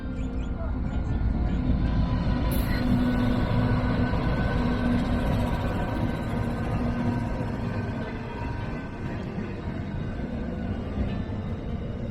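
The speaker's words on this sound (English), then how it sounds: "Here comes the train." A train rumbles past in a long, steady roar that slowly fades, with faint voices in the background.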